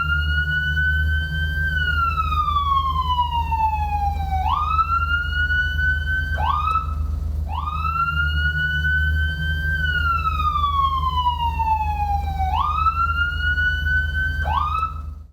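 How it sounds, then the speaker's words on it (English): A loud wailing fire truck siren sweeps repeatedly up and down in long cycles, with quicker yelps between, over a steady low engine rumble. "once I hit the horn, the siren's going to go off like this."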